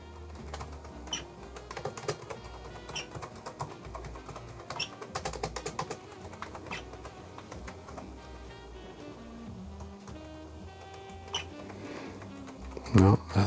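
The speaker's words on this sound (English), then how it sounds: "I'm just gonna start typing." Rapid, irregular key clicks from typing on a keyboard of a 1970s Z80 computer being repaired, close and steady through the stretch, with a louder knock near the end.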